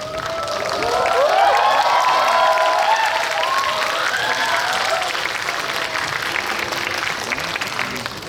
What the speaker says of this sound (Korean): 박수로 뜨겁게 맞이해주세요.